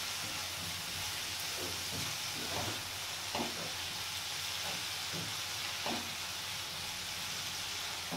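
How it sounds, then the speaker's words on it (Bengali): Spice paste frying in a pan for a koi fish curry with orange, giving a steady broadband sizzle and hiss with occasional soft stirring scrapes, no voices. "এবার মশলাটা ভালো করে কষিয়ে নেব।"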